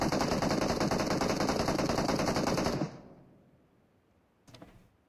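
Rapid automatic gunfire from the BGMI battle royale game rattles loud and continuous for about three seconds, then cuts off, leaving quiet until a brief shorter burst near the end.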